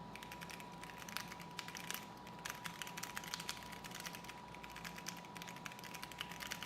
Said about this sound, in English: you could hear the keyboard sound.